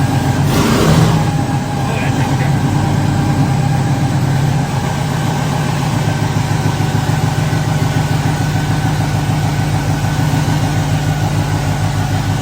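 A loud, nearby LS V8-swapped car engine rumbles with a lumpy, throbbing idle, holding steady throughout, with a brief voice near the start.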